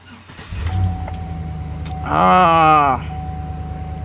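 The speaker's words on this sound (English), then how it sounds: "You start this car." A 2007 Chevy Avalanche engine starts: a starter whirs, the engine catches about two seconds in with a brief loud revving surge, then settles into a steady idle with a faint tone in the background.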